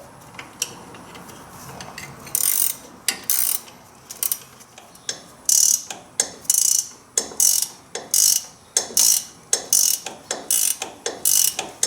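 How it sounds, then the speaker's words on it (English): A 14mm ratchet and socket snug down bolts while a leveling kit goes onto a 2014 Chevy/GMC 1500 pickup, producing close, loud bursts of rapid ratcheting clicks that repeat steadily and speed up toward the end, with no talking. "it's just a little 14mm wrench and socket"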